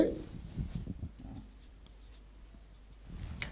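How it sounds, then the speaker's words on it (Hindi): Pen writing on paper during a maths lesson on rectangle area, a steady close scratching that is strongest at the start, thins out in the middle and picks up again briefly at the end, with no talk over it. "अब हम लिखेंगे"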